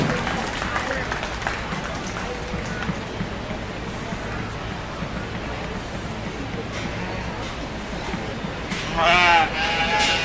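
Steady applause fills a sheep breeding show arena at a 4-H/FFA event, a dense sustained patter of clapping with sheep bleating and a voice audible underneath.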